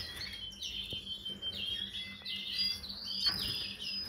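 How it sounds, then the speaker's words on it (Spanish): Young pigeon squabs at weaning age chirp in a loft, with thin, high, repeated peeping calls close by and no talking. "Aquí está el pajarito"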